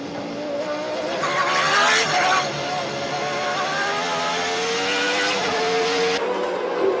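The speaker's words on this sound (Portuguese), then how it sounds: "A câmera de bordo dá uma visão impressionante de Boutsen passando Berger na freada para assumir o segundo lugar" Several 1990 Formula 1 race cars, heard from an onboard camera, scream loudly as they brake and one overtakes another, their engine pitch sweeping down and then rising again as the cars accelerate, with a brief squeal of tyres.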